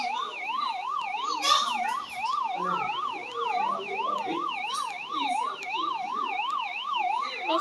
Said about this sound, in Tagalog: Pag-ingay lang yung pulis.